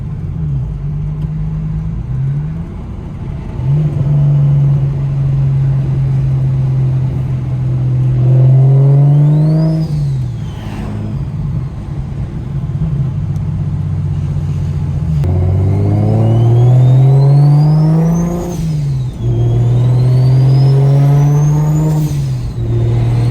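A car engine fitted with a Precision Pulsar 6466 turbo revs loudly and continuously, rising and falling through several throttle blips, with a high turbo whistle spooling up and winding down over the deep engine roar.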